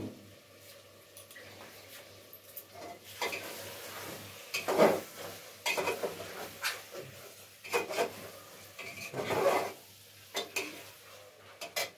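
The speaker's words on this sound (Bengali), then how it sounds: "আমি যেহেতু মাংসটা কষছি একটুখানি জল দিয়ে দেবো এর মধ্যে" Meat braising in a home kitchen pan, scraped and stirred with a utensil in several distinct bursts, with quiet clinks and a soft sizzle between the strokes.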